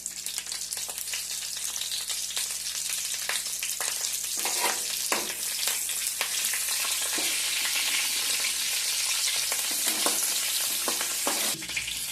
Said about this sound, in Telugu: నీట్ ఎక్కింది కదా వేసుకోవాలి తర్వాత పచ్చిమిరపకాయలు